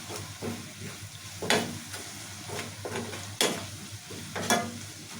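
Onions and tomatoes with turmeric are stirred in a pan for a cauliflower curry, giving several distinct scraping spoon strokes over a steady low sizzle, close and fairly loud, with no talk.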